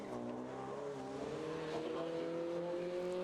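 Cooper Bobtail race car at the Chateau Impney hillclimb, its engine holding a steady, loud drone with a slowly rising pitch as it pulls up the course, continuous throughout with no talk.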